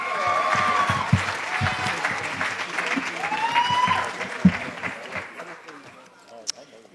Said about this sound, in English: Can we get one more round of applause to our culinary arts students?